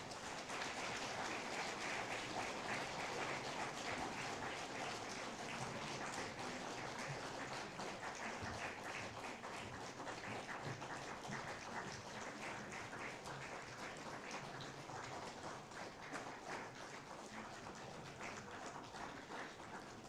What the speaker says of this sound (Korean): 전달해 주실 때에 큰 박수로 환영해 주시기를 바랍니다